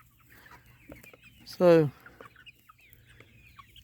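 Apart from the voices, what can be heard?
rooster clucking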